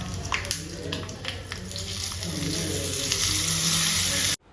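Loud, steady sizzling of spices and curry leaves hitting hot oil as tempering for raw banana peel chutney, with a few clinks at the start, ending abruptly.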